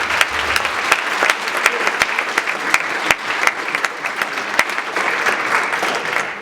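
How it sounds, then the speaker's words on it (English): Sustained audience applause, a dense crowd clapping steadily for several seconds with a few sharper individual claps standing out. "One more round of applause for all of you."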